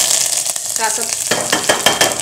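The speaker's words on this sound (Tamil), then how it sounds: "இப்போ ரசம் தாளிக்கலாம்." Hot oil sizzles and spits loudly up close, with sharp crackles and pops as mustard seeds, urad dal, a dried red chilli and curry leaves are dropped into the pan and stirred for lemon rasam.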